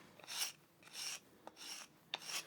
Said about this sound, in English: If you're using the diamonds, you can go back and forwards.